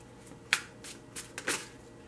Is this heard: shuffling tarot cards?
yes